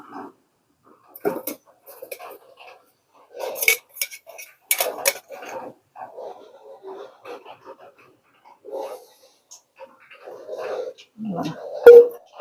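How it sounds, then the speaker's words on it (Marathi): A metal kadhai set down on a stove for frying, giving sparse clanks and utensil knocks with a sharper metallic clatter near the end, alongside intermittent speech. "आता तेल ठेवते तळायला, म्हणजे तेल पण गरम होईल. कढई ठेवते."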